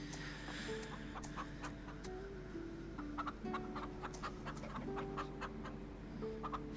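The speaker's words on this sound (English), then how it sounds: "now we just need the stupid chickens" Chickens clucking in the Farm Together video game, quiet and scattered over a low, steady background hum, with soft repeated clucks and short squawks spread across the stretch.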